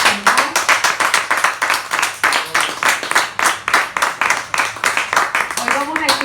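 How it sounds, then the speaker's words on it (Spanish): A church congregation claps in a steady, fast rhythm throughout, loud and close, with a voice briefly heard toward the end. "Den un fuerte aplauso al Señor."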